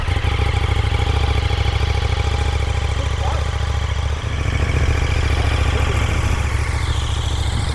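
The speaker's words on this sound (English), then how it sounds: "this is his new 1290 Super Duke" A KTM 1290 Super Duke R EVO motorcycle engine idles steadily and close by, a constant low rumble throughout with no clear revving.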